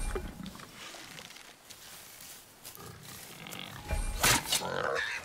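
Low piggish grunts and snorts from a boar in a video game, intermittent over faint background noise, with a louder rough burst near the end.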